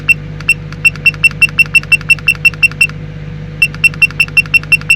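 Rapid electronic beeps from a Lexus SC430's heads-up display RPM alarm, set to 7,500 RPM, repeat in a steady, even rhythm, pause briefly, then resume over a low constant engine hum.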